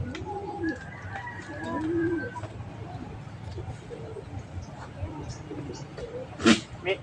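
Chickens cluck softly at a distance over a low background hum, with a few brief higher calls and a sharp noise near the end.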